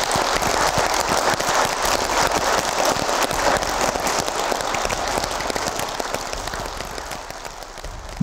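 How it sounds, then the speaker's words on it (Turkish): A large audience breaks into loud, sustained applause after the Turkish national anthem, İstiklal Marşı, is sung. The dense clapping carries on steadily and fades a little toward the end. "Her okunuşun sonunda alkış tufanı kopuyor"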